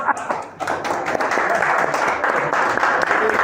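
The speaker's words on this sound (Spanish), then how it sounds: "es que ahí había unos aplausos" Recorded applause plays back during a talk, a continuous wash of clapping from a crowd heard at moderate level, with a voice briefly present.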